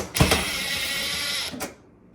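A power driver backs the last Robertson screw out of a Whirlpool stove's side panel with one steady whirring buzz of just over a second, close by, ending with a brief click and then quiet.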